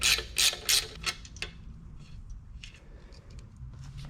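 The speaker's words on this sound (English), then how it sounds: "But this is a ratcheting one, so I'm just going to ratchet all the way until it comes off." Ratcheting wrench working a nut off a Mercury 75-115 HP outboard motor during a 300-hour service, a few quick clicking bursts up close followed by fainter, sparser ticks.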